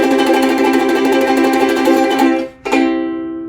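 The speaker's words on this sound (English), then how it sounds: "you got to start practicing getting your tremolo super fast, right?" A ukulele plays a fast, sustained tremolo strum that rings loud and steady, briefly cuts out, then resumes and decays; no voices.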